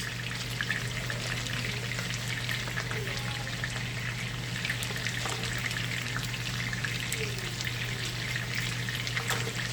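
Food sizzles and crackles steadily in a hot pan, close and constant, with a low hum underneath and no voices.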